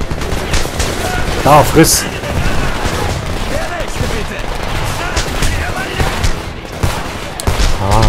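Pistol gunfire in the video game Homefront, loud repeated shots over a busy battle soundscape, with someone talking briefly.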